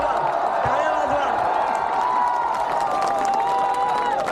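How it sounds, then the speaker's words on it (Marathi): A crowd at a peaceful protest in Nagpur applauds and cheers, a loud, continuous roar of clapping and voices, with a tonal whistle or horn line running through it. "तर या सगळ्यासाठी टाळ्या वाजवा"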